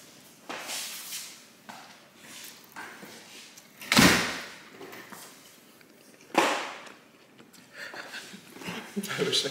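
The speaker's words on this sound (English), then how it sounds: "Close the door." A door being closed indoors lands as a sharp thud midway, followed by another knock later, amid people talking and moving about a room.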